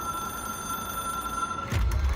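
In the video game Control, a telephone rings with a bright, sustained bell tone over soft ambience, then a sudden low thud or rumble cuts in near the end.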